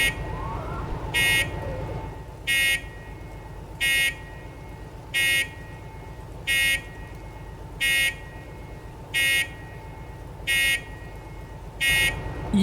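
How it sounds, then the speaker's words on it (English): The electronic bell warning device on the DH4 locomotive in the video game Derail Valley sounds as a buzzy, car-alarm-like beep, repeating about every 1.3 seconds in nine even pulses above a steady low engine hum. "almost like car alarm kind of a bell warning device"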